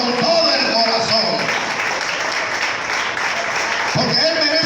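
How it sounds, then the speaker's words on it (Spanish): A Pentecostal church congregation claps in a sustained burst of applause, loud and close, with a voice speaking over it. "Si ese aplauso es para mí, está bien, hermano, muy bien ese aplauso."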